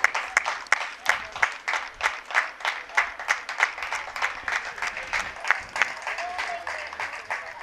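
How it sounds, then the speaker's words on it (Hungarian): A football crowd in the stands applauds a substituted player, steady rhythmic clapping from many hands at a distance throughout, with a commentator talking over it. "Orosz nagy tapsot kap a lelátóról."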